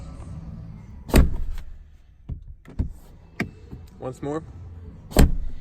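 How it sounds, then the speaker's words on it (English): The door of a 2019 Škoda Superb FL SportLine shuts twice with a solid, heavy thud, a few seconds apart. A person speaks briefly between the two closes. "Let's listen to the door closing sound."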